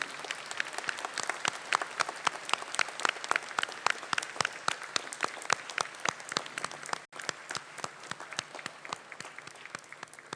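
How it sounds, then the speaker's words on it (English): Convocation ceremony audience applauding in a large hall, a steady, loud stream of overlapping claps with sharp individual hand strikes that continues evenly for about ten seconds. "Let us all give them a big round of applause and congratulations."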